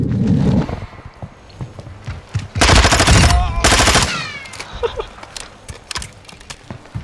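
Rapid automatic gunfire from the video game Modern Warfare 2 rattles in two loud bursts, surrounded by scattered single shots and game effects, with some talk at the start.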